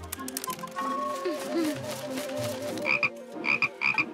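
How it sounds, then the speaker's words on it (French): A few short croaks sound out over a busy background of music and other sounds, repeating in small clusters near the end. "Une grenouille."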